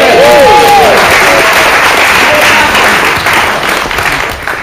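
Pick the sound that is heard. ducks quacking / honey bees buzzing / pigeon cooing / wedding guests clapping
wedding guests clapping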